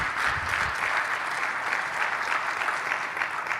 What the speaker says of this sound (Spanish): un aplauso a los maestros de niños